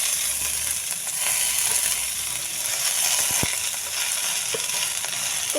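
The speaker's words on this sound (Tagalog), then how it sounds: "ipiprito natin ng slight" Pechay (bok choy) fries lightly in a pan with fried tofu, giving a steady, close sizzle and hiss that carries on throughout with a few faint stirring knocks.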